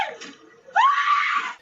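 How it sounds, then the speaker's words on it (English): A woman screams in terror outside an apartment in Hatfield, Montgomery County during an early-morning assault; a short cry is followed by one long, loud, sustained shriek. "The screams of terror from a woman leaving her apartment in Hatfield, Montgomery County early this morning."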